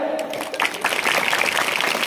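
Audience applause at a bhajan singing competition prize ceremony rises after a brief quieter start, then runs as a steady, moderately loud patter of many hands.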